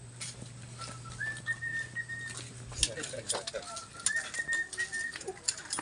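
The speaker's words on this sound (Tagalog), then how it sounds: "Nakakanta yung ibon." A bird sings repeated whistled phrases with rising and falling notes over about six seconds, near and clear above a low hum and rustling background.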